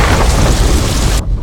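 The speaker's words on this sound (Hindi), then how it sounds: "बारिश हो रही है" Heavy rain pours in a dense, steady roar with low rumbling thunder underneath, loud and continuous with no voices, then cuts off abruptly near the end.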